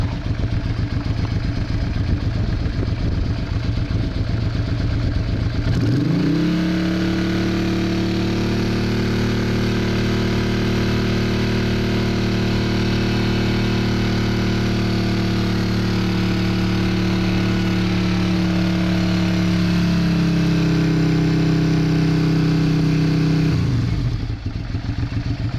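A Honda Hawk GT (Bros) motorcycle engine runs close by and loud for about twenty seconds, a steady droning beat that shifts slightly near the end, with louder broadband clatter before and after.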